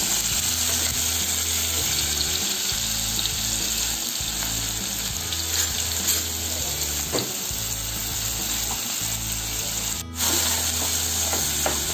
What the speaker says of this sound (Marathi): आता कांदा आपण चांगला परतून घेऊया.